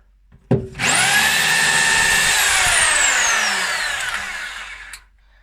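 A power drill fitted with a masonry bit spins up after a sharp knock and whines loudly and close for about four seconds, its pitch sliding slowly downward before it stops.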